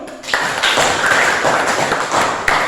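A classroom of students in Indonesia breaks into applause, a dense, busy patter of clapping that starts abruptly and carries on loudly and close for a couple of seconds.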